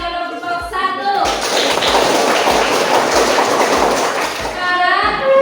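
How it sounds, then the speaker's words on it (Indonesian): Applause for a group in a school class: a burst of clapping from many hands fills the middle seconds, loud and dense, with a steady rhythmic thumping and voices before and after. "Nah, beri aplaus dari kelompok satu."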